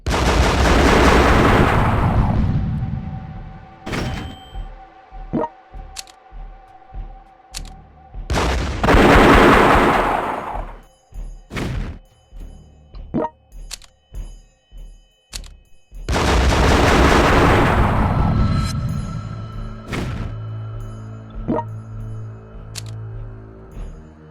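Tank and artillery fire in the strategy game European War 3 sound as loud repeated booming blasts. Three long, heavy rumbling explosions stand out, with rapid sharp gunshot cracks scattered between them and no one speaking.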